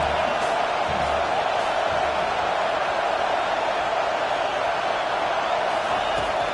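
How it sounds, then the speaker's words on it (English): A football stadium crowd cheers for the home defense, a dense, constant roar filling the whole clip, loud and steady with faint whoops rising from within the mass. "This crowd knows this defense needs them right now."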